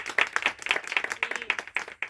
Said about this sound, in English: I want you to just clap for yourselves.